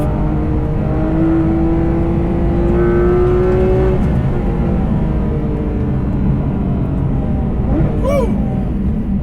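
A Porsche 991.2 GT3 RS sports car driven hard, its engine note loud and continuous with rising and falling pitch as it gears up and down, ending in a sharp high rev near the close.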